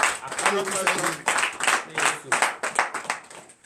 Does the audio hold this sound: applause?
yes